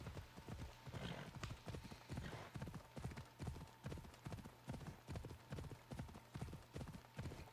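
Horse hooves clip-clop in a quick, regular rhythm, sharp repeated strikes at a steady trot, fairly close, with faint background sound, in the video game Assassin's Creed Odyssey.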